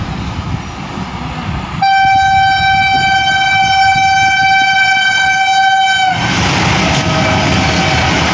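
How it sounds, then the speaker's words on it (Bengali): Vande Bharat express train approaching alongside a stationary AC chair car train, its long loud horn blaring steadily for about four seconds over a heavy rail rumble, which continues after the horn stops. "তো এদিকে বন্দে ভারত আসছে।"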